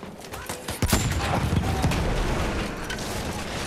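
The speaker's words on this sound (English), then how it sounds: "Figure out what's shooting at us." Rapid gunfire from Battlefield 1 multiplayer crackles in sharp bursts over dense battlefield noise, with mechanical clatter and booms mixed in, loud and continuous throughout.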